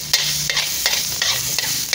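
Minced garlic is stir-fried in a hot wok for pork fried rice, a loud close sizzle broken by quick rhythmic scrapes of the spatula, roughly every third of a second.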